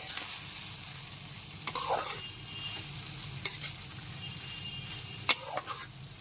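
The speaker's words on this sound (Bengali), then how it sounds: "দুধটা দিয়ে দেওয়ার পর খুব ভালো মতো মিশিয়ে নিতে হবে" Vermicelli and milk stirred in a pan over a low gas flame for sweet zarda semai, giving soft scraping strokes with a few sharper utensil knocks against the pan, steady and close with no voices.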